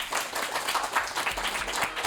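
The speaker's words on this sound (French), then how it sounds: "Vous pouvez vous applaudir." Group of schoolchildren clapping, a brief stretch of brisk, fairly dense applause heard at moderate volume.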